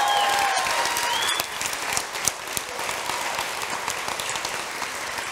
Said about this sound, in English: Journey, give him one big round of applause.